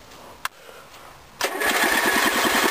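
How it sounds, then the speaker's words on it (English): A 1981 Briggs and Stratton 11 hp engine is started cold without choke: a sharp click, a brief pause, then the engine catches and settles into a loud, steady, rapidly pulsing run. "So I'm going to fire her up again, see if she'll start without choke."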